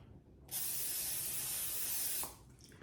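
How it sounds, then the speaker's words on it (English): Olive oil spray hisses onto a kitchen pan in a single loud, close, continuous burst of nearly two seconds, then stops abruptly. "we're going to spray our pan. And I'm using the olive oil spray."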